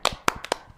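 One person claps four times in loose succession during a blacksmith interview. The claps are sharp, close and distinct, with short quiet gaps between them.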